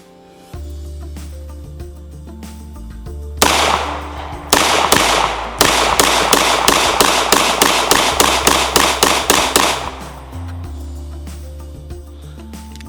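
A Kimber KDS9c compact pistol fired at 8 yards: two separate loud shots, then a rapid string of about a dozen sharp, evenly spaced reports that ends abruptly, with quiet music in the background.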